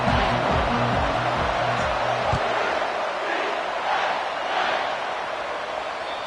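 A football stadium crowd roars at kickoff of a UCF Knights versus Coastal Carolina game, a dense steady wall of noise with rhythmic thumping at first, while an announcer talks over it.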